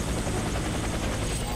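Helicopter in the shooting video game Warface, a dense continuous rotor and engine roar heard close and loud, with a voice speaking over it.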